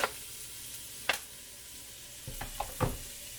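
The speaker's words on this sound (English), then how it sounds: "Now you're just going to cook your onions and your garlic until they start to brown." Onions and garlic frying in a wok for a vegan lentil loaf, with a low sizzle and a few sharp scraping stirs near the end, close and quiet.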